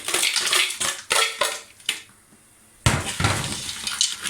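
Frozen sliced carrots being stirred with spices in a pan, heard as close, irregular scraping and clattering of a utensil against the pan, with a short pause before the stirring starts again.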